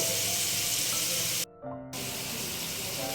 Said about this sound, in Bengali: এবার এগুলোকে আমি গরম তেলে ভাজবো